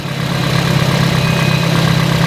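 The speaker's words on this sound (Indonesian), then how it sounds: "Dan ini suara mesinnya masih mulus bos" A 2012 second-generation Toyota Vios Limo, a former taxi, idles steadily and close by with a smooth, even low hum and no misfire, running alone without voices.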